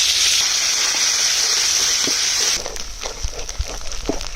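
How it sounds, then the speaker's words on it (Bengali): Onion-garlic paste sizzling in hot soybean oil in a wok, a steady loud frying hiss that drops abruptly halfway, leaving a quieter sizzle with a few soft clinks of stirring. "চুলায় কড়াই দিলাম, সয়াবিন তেল, পেঁয়াজ রসুন বাটা"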